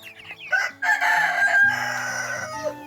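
A rooster crows loudly and close by, one long drawn-out call with a trailing end, over faint low background tones.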